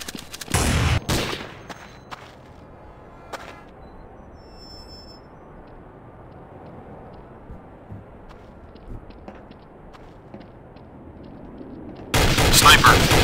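Sniper rifle fire in Counter-Strike: Source, with a single loud, sharp shot followed by a long quiet stretch of faint ambience, a few soft clicks, then another heavy burst of gunfire at the end.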